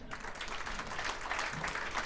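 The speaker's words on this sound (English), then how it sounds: "Let's give a big round of applause again." An audience applauds Congresswoman Maxine Waters and Congressman Ted Lieu at a State of the Region event, a dense, even wash of distant clapping that holds steady, fairly faint, with no individual claps standing out.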